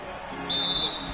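A referee's whistle sounds on a foul in a PS4 basketball game, one short shrill blast over a low crowd murmur, loud and close, with no talking.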